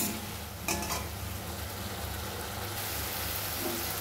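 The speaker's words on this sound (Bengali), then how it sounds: "ভালো মতো আমি 4-5 মিনিট ধরে মশলাটাকে কষিয়ে নেব।" Spice paste (masala) frying in oil in a pan while being stirred, a steady close sizzle with a brief scrape of the spoon near the start, no talking.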